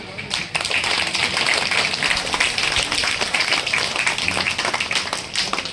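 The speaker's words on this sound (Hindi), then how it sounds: "जोरदार तालियां हो।" Audience applause at a Baha'i community conference in the Gogri cluster, dense steady clapping from many hands filling the room, loud and sustained with voices mixed in beneath.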